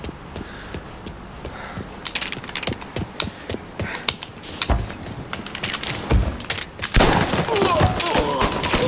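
Gunfire rattles in Mafia Definitive Edition as a two-shot weapon and other guns trade scattered, sharp shots. The firing grows denser toward the end, with a voice talking over the game.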